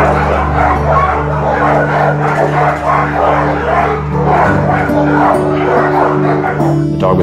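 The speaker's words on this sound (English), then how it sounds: "We took in 39 little blue Chihuahua dachshund mixes" Small Chihuahua dachshund mix dogs rescued from a hoarding situation bark and yip repeatedly, close and loud, over a steady low hum with some voices mixed in.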